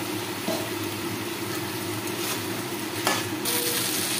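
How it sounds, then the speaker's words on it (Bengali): Boiled chickpeas and potatoes sautéing in a pan for chana masala, a steady hissing sizzle with soft scraping stirs and a few light knocks, close and continuous, with no talk. "দিয়ে ভালো করে আমি এটাকে আরেকটু কষাবো, একসাথে করে আরেকটু কষাবো"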